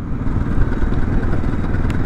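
A MASH X-Ride 650 single-cylinder motorcycle engine runs with a dense, rough low rumble and faint mechanical clatter, close and steady throughout with no talking.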